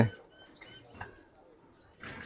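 Pigeons at a loft give soft, faint coos and a few chirps in short bursts, with a little background noise between them.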